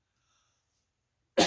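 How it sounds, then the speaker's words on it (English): A single short cough bursts out abruptly after a stretch of near silence, close and fairly loud. "We'll edit that cough out."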